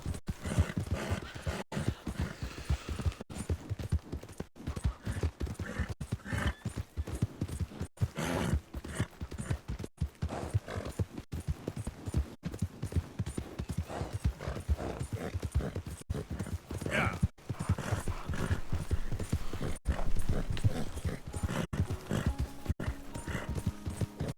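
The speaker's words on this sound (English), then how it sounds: "Vou andar por aí porque tenho vontade de andar de cavalo." Hooves clip-clopping in an even, unhurried rhythm as a horse is ridden in Red Dead Redemption 2, close and steady over soft outdoor ambience.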